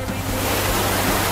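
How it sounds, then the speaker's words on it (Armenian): Svarants waterfall near Tatev pours with a dense, steady broadband roar of falling water, close and continuous across the brief moment. "Սվարանցի ջրվեժ, տեսեք ինչ բարի է"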